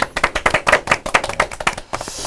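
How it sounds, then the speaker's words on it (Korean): A studio audience at a political talk show claps in unison, sharp, rhythmic beats that come steadily closer together, loud and near, then trail off at the end. "점점 박수를 쳐주시는 속도가 빨라지시네요"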